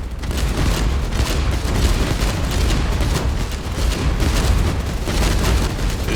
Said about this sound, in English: A generator explosion.